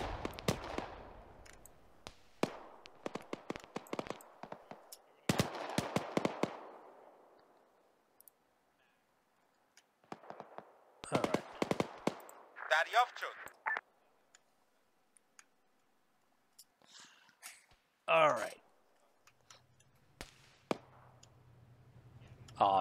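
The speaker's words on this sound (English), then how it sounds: "What the hell was that? Gun fire." Gunfire in the military game Arma 3: scattered sharp shots and short bursts crack out at varying distances, some loud and close, others fainter, with quiet gaps between volleys and a low engine hum near the end.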